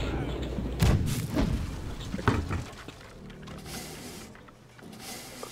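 Ship cannons in a Blackwake naval battle fire as several heavy booms, with the loudest strikes close together early on and fainter rumbles afterward. A player talks between the shots.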